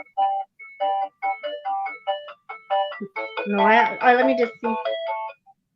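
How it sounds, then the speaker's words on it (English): An incoming-call ringtone plays a looping electronic melody of short repeated tones, fairly clear, with a person speaking over it partway through. "Oh, I got a phone call."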